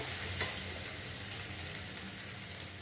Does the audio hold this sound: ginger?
yes